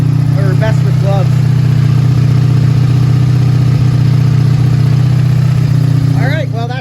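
A 1984 Honda V65 Sabre VF1100S motorcycle engine idles steadily after a cold start, a loud, constant low drone with a strong hum, while someone talks over it at the start and end.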